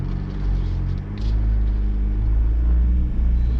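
An off-road vehicle stuck in a muddy hole on a Northern Rivers bush track, its engine revving in a loud, continuous deep rumble as the tyres spin, close and sustained without talk.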